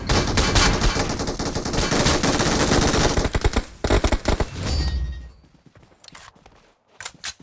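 Sustained automatic weapon fire in PUBG Mobile on the Livik map, loud and dense for several seconds, then breaking into scattered single shots and short bursts that fade toward the end.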